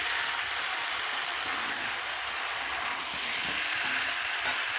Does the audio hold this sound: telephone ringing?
no